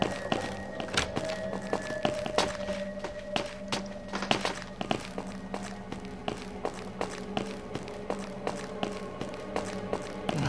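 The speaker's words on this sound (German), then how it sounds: "Man hört seine Schritte, das heißt, er kann die Tür nicht hören." Video game footsteps thud and tap in a quick, steady rhythm, close and fairly loud against a low background hum, with a few heavier knocks mixed in.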